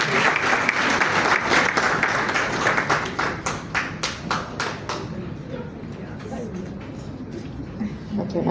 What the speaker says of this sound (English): another round of applause for our fantastic panelists